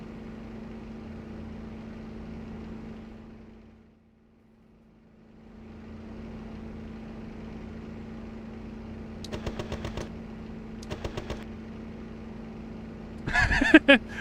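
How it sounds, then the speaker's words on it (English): Machine guns on WWII fighter planes in an online flight combat game, including a Focke-Wulf 190, fire in short rapid bursts over a steady droning engine hum, with a brief dip in the drone before three separate volleys. "The Axis MGs just are pounding like crazy"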